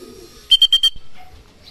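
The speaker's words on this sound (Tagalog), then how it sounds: "mga ibon to" A racing pigeon at a loft gives four quick, evenly spaced coos close by, followed by a soft thump and faint rustling.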